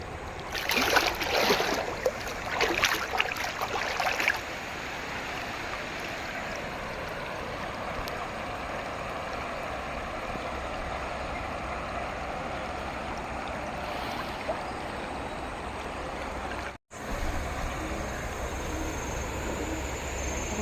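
Floodwater of the Sabarmati river below Dharoi dam rushes steadily in a continuous broadband roar. A louder, more turbulent patch comes in the opening seconds, then the flow settles into an even wash with a brief dropout near the end.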